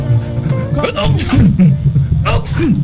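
A single sneeze breaks out during a radio news broadcast, heard close and loud amid ongoing talk.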